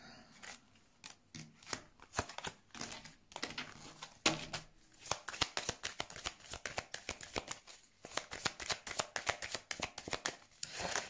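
Tarot cards are shuffled by hand in rapid irregular bursts of soft riffling and slapping, close and quiet, with no talking.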